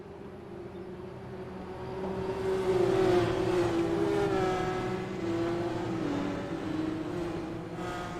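IndyCar race cars at Gateway accelerate away on a green-flag restart, a rising engine drone that swells around the middle and holds as the field pulls away at a distance.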